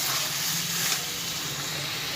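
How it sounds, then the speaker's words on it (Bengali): Water poured into a hot pan of fried string beans with chillies sets off a steady, loud steamy hiss and sizzle that holds for a couple of seconds with no talk. "এবার আমি জল ঢেলে দেবো।"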